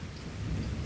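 Heavy rain pours steadily with a deep rumble underneath, a continuous wash of sound with no voices.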